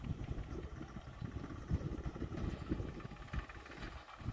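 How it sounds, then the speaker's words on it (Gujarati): A tractor engine running on a farm near a threshing machine, a low steady rumbling drone with uneven throbbing, heard from a moderate distance with no talk over it. "ટ્રેક્ટર હાલે."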